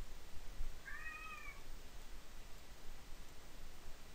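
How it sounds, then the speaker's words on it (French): A cat gives one faint, drawn-out meow in the background of a quiet indoor room, with steady low hiss throughout and no speech. "désolé pour le chat qui fait du bruit derrière"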